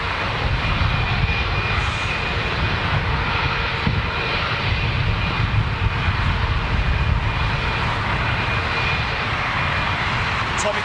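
Aircraft engines of a passing airliner roar steadily and loudly throughout, a continuous broadband drone with a faint whine on top, close and sustained.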